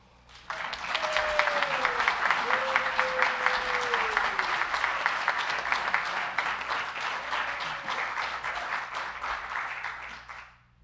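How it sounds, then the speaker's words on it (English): Sustained audience applause at a Sunday church service fills the room for about ten seconds, dense and steady before fading out at the end, with a brief voice rising over it near the start. "Let us applaud you one more time"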